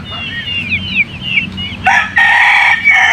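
Young Boston pullets crow and cluck up close, with thin chirping calls first and then louder, sustained crowing bursts dominating the second half.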